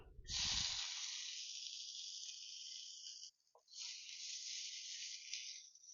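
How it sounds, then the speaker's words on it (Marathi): Garlic frying in a pan for a dried Bombay duck chutney, a loud, steady close sizzle that drops out briefly in the middle and then resumes, with a soft low thump at the start. "आता आपण लसूण परतून घेऊया"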